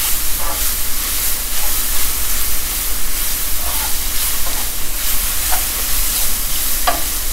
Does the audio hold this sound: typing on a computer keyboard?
no